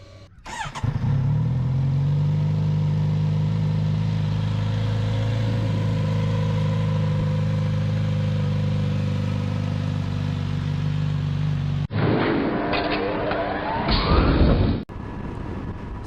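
Kawasaki Z900RS motorcycle cruising steadily on a Florida Panhandle road, its engine drone loud and continuous with wind rush, then a brief shift in tone near the end.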